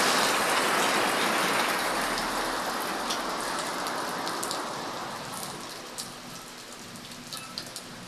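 Steady rain falls, a broad hiss that is strongest at first and slowly eases, with a few scattered louder drops toward the end.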